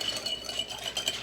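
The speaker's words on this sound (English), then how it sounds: "So let's go ahead and whisk this." Ingredients whisked in a bowl at a home Friendsgiving potluck, the mixture looking like egg yolk; rapid, steady scraping and light clinking of the whisk against the bowl throughout, close and fairly quiet.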